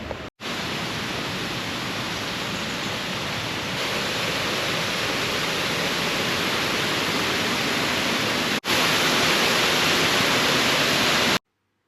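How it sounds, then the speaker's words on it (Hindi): Water flows steadily from a partly snow-covered lake in Frogner Park, a loud, continuous rushing wash with no voices and only brief breaks. "यहाँ पर पानी जो है वो फ्लो में है"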